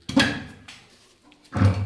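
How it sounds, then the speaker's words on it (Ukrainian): A small cast-iron door on a combined solid-fuel boiler for pellets, briquettes and wood slides open with a scraping metallic rattle, then a short pause, and a second heavier clunk and scrape; no talk in the clip. "Оця дверка отак от відсовується, називається вона слонік."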